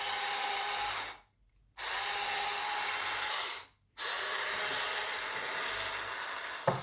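A Silvercrest electric corkscrew whirs as it drives into the cork of a wine bottle, a steady motorized buzz in three bursts broken by two short silent pauses, close and clear with no talking.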